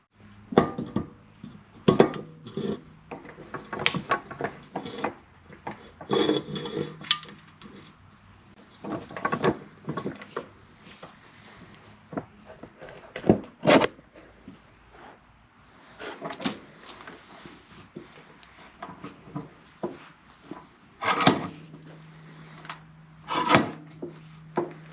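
A small vise presses a bearing into a part during work on a Honda XR400 motorcycle, making close, irregular metallic scrapes, creaks and rubbing clunks in short bursts, with no talking.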